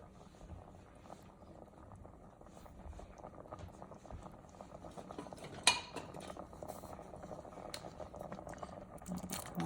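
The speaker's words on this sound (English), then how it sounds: "I'm going to put some black beans in here as well." Canned black beans tipped into a pot of Mexican-style chili, a soft bubbling slosh with light clinks against the pot and one sharp tap midway, fairly quiet overall.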